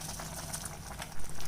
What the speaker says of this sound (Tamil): இப்போது தண்ணியும் தேங்காய் பாலுமா சேர்ந்து நல்லா கொதிக்க ஆரம்பிச்சிருச்சுங்க.